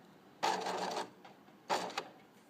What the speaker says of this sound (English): now I'm going to back stitch 2 or 3 stitches before starting.